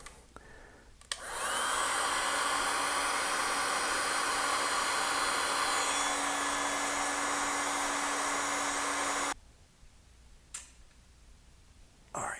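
Heat gun shrinking heat-shrink tubing on a GM engine wiring harness, a steady loud blowing hiss that runs for about eight seconds before cutting off, followed by faint handling clicks.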